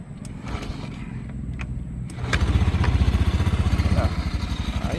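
Motorcycle engine kick-started after its stiff, sticking kickstarter was cleaned, catching at about two seconds and settling into a loud, steady, close idle with rapid low pulsing, with a few sharp clicks before it fires.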